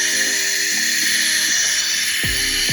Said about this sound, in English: we're still gonna try and pull a vacuum on this by just pulling right here.